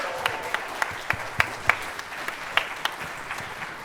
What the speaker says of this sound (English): can we get another huge round of applause for all the students that performed tonight?